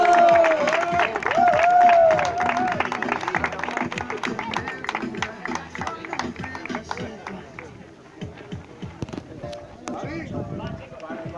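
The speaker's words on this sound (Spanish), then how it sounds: "Un fuerte aplauso para él." A crowd applauds a winner at an amateur padel tournament prize-giving, a burst of loud clapping and cheering that gradually thins out, with a voice over a loudspeaker near the start and people chatting as it fades.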